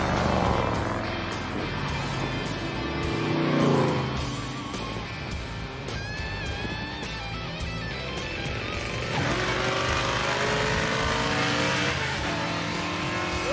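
A 1981 Buick Century race car driving hard and accelerating, its loud, rough engine rising and falling through revs as it pulls, heard from close by with no talk over it.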